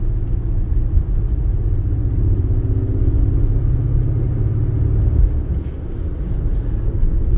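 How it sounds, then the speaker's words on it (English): Steady low road rumble and engine drone from inside a moving Acura RDX with a 2-liter turbo engine and all-wheel drive, continuous and fairly loud, with no voices. "just take it for a quick test drive"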